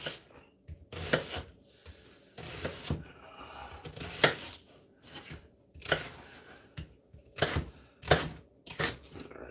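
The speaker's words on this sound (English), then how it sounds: "So just chopping the onions" A knife chops onions on a board while breakfast is cooked: bursts of crisp chopping strokes come in irregular clusters, close and fairly loud, with no talking.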